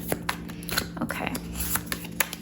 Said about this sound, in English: I'm gonna just shuffle a little bit more because your bottom of the deck was flipped around